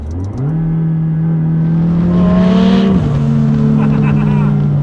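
McLaren 600LT long-tail sports car engine revving hard and accelerating, a loud close rising howl that climbs, drops briefly at a gear change, then pulls strongly again.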